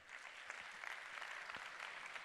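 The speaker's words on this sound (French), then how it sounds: "applaudissez Christian maintenant, s'il vous plaît." Audience applause at a youth gathering welcome speech, as the crowd claps for Christian; steady, dense clapping throughout, fairly faint and distant.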